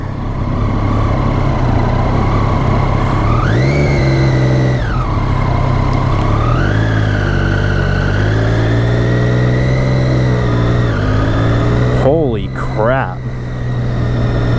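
A 2015 Triumph Daytona sport motorcycle engine runs loudly while being ridden, its pitch climbing and falling through several rev swells and gear changes, ending in a couple of sharp blips.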